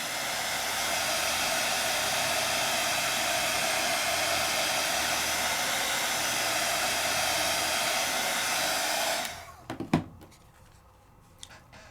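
A dryer blows air over a handmade card at a craft table, giving a loud, steady close rush that holds for about nine seconds, then cuts off, followed by a few faint clicks and handling taps.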